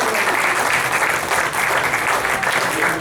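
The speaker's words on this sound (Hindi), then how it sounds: "ये तालियां उनके लिए हो गई।" Steady, dense applause from a mushaira audience in a hall, many hands clapping loudly and evenly throughout with no pauses and no talk over it.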